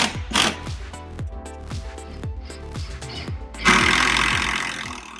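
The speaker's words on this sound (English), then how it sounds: "I drove in a few screws from inside the cabinet to secure it into place." A power driver sets screws from inside a wooden cabinet for a window banquette, a fast series of sharp close clicks and clatters from the clutch ratcheting, ending in a louder burst of whirring.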